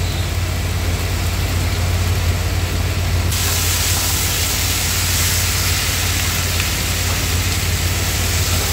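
Green peas sizzle in hot oil with spice paste in a kadai, a loud, steady hiss and crackle that turns brighter and fuller partway through, with no talking.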